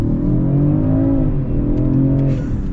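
A 2023 Range Rover Sport in S mode accelerates hard from a standstill, its engine note rising loud and close in a steady climbing roar with a brief dip as it shifts gear.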